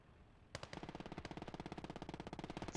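Sustained automatic machine gun fire in the WWII strategy game Gates of Hell bursts in after a quiet half second, a rapid, steady stream of close, loud shots continuing to the end.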